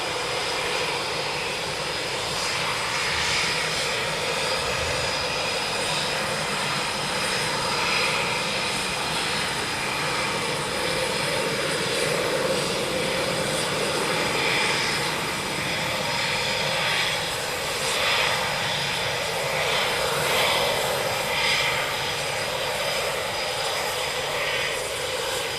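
Military aircraft taxi out at RAF Coningsby with a continuous loud engine roar and whine, steady and sustained throughout.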